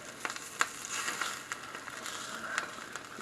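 Breakfast sandwich fillings fry on a hot griddle with a steady close hiss and scattered sharp crackles and pops, heard alone without voices.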